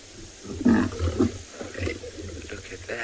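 A white lion female on a South African safari reserve gives a low, rumbling growl in short bursts. A few quiet voices talk faintly nearby.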